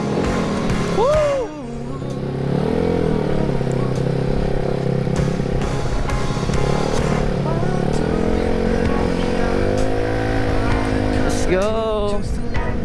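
A Mio 192cc motor scooter engine drones steadily while riding, a loud continuous hum that rises and falls with throttle, with wind rush and brief voices over it.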